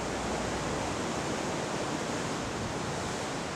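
Sea waves surge against the sharp rock walls of a seaside rocky hill at Yeonggeumjeong in Sokcho, a steady, dense wash of surf roar that fills the whole stretch without a break.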